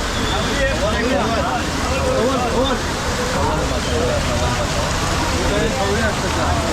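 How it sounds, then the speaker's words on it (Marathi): Steady heavy monsoon rain hisses without a break in coastal Konkan, with voices talking over it throughout. "संततधार असा पाऊस चालू आहे. रात्रंदिवस असा पाऊस चालतोय."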